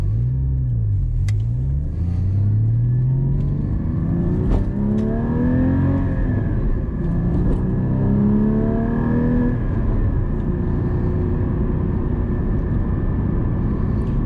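A Porsche GT4 pulls away from a stoplight at night on city streets heading into Boston. The engine roars loud and close, climbing in pitch through repeated rising revs as it accelerates, with steady road rumble underneath.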